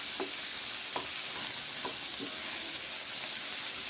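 Eggplant curry being stirred in a frying pan, with a steady sizzle running throughout and several distinct scrapes of the spoon against the pan at irregular intervals, with no talking.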